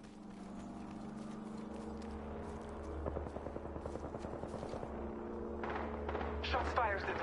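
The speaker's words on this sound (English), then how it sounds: "Shots fired at me" Rapid bursts of gunshots ring out in Apex Legends, a rattling volley of shots in the middle over a steady low game drone, with another flurry near the end.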